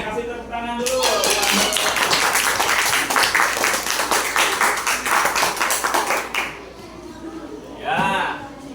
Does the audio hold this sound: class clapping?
yes